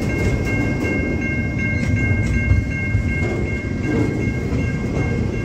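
A heavy freight train rumbles steadily past at close range, a continuous low roar with faint metallic squeals and rattling wheels throughout.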